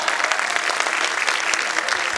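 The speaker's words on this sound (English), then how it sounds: "Please give a big round of applause." An audience at a school annual day applauds in a steady, close burst of dense clapping that fills the whole stretch without pause.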